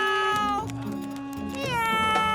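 A cartoon character imitates a cat with drawn-out, close, loud meows, two sliding vocal wails in a row.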